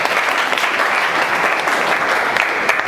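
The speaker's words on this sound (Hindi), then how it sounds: "जोरदार तालियां भाई के लिए बजा दीजिए" An audience claps loudly for a student in a classroom-style gathering, a thick, sustained round of applause with no voices on top, holding steady throughout.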